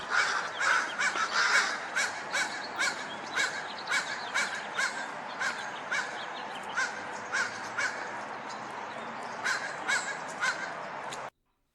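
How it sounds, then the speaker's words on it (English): Crows mobbing a bird of prey, giving a long series of harsh, loud caws in quick bursts and separate calls, several birds overlapping at close to middle distance. "Crows are not sitting close to this bird. They are swooping around the tree."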